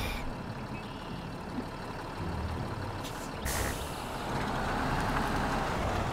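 A heavy truck rumbles along in MudRunner, its engine droning steadily while an intermittent reversing beep chirps above it and a brief hiss of air brake cuts through near the middle.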